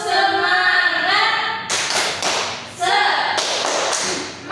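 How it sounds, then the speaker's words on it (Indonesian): Group rhythmic spirit clapping by a class, sharp bursts of hand claps and thumps in a patterned rhythm, close and loud, with voices shouting along over it. "1, 2, 3. Tepuk semangat."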